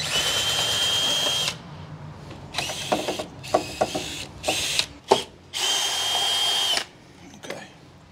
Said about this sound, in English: we got to have a, you know, a screwdriver